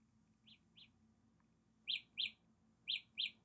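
Samsung Galaxy Buds Live earbuds emit a Find My Earbuds locating tone, high bird-like chirps in pairs: two quieter ones, then four louder ones in two pairs, alone in a quiet room.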